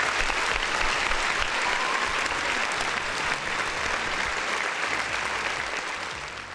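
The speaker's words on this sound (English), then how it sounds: "Big round of applause" A round of applause from a crowd, dense and sustained clapping at an even level throughout, tapering slightly at the very end.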